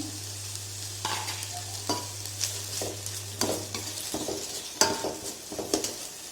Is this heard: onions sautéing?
yes